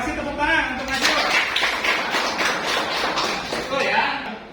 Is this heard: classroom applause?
yes